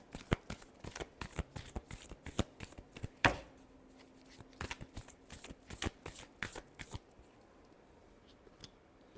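Tarot cards are shuffled by hand in a quick series of crisp riffling flicks and taps, close and fairly quiet, thinning out toward the end with no talking.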